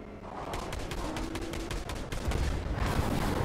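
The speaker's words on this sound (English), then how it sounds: "they're shooting at us" Rapid bursts of gunfire in the video game Fortnite, in a Star Wars mode, crackle through a busy firefight, with repeated sharp shots over a steady rumbling mix.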